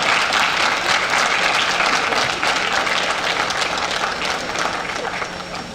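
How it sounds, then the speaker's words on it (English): An audience at a high school National Honor Society induction ceremony applauds the parents, a loud, sustained wash of clapping that fades slightly toward the end. "Students, I think this is a good time to acknowledge the efforts of your parents with some applause."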